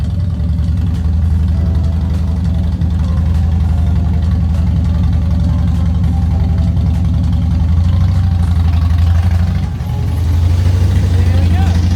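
A Harley motorcycle riding up a ramp into a trailer: a steady, loud, low engine rumble throughout, dipping briefly near the end before resuming.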